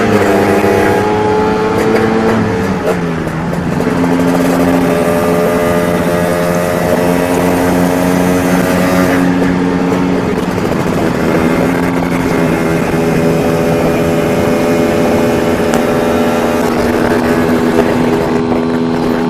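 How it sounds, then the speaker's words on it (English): A two-stroke engine revs hard as it pulls out of corners. The loud, steady, buzzing note rises and falls continuously throughout, close and with no break. "you still keep that lovely two-stroke sound all the same"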